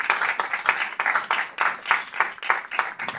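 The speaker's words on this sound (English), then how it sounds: "a big round of applause for one another" Audience at an evening talk on Hindu wisdom giving a round of applause, a sparse cluster of claps in a loose rhythmic pulse, fairly close and lively.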